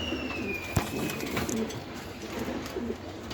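Pigeons coo repeatedly at a pigeon farm, low soft calls recurring over steady background noise, with a bright click near the start.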